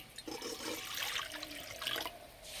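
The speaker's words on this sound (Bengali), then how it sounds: "কড়াই দেবো জল," Water poured into a wok on a lit stove makes a short splashing, gushing rush of liquid, fairly close and alone.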